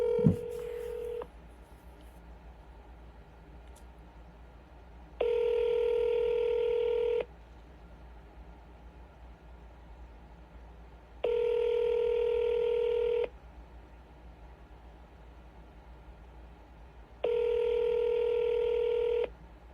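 A phone call rings out unanswered: a steady ringback tone repeats four times, each ring about two seconds long with roughly four seconds of quiet hiss between, heard faintly through the handset line.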